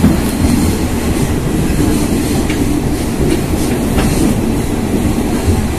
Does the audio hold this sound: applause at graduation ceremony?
no